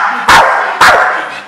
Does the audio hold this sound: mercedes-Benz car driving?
no